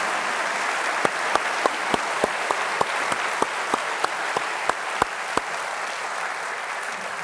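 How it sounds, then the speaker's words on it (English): Audience applause at a NATO Secretary General event at the West Point military academy, with crisp, regularly spaced claps over a broad wash of clapping from the crowd, with no talk. "Please give a round of applause."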